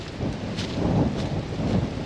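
Thunderstorm approaching in the Botswana bush, with low rolling thunder rumbles and a steady wash of rain and wind around the microphone.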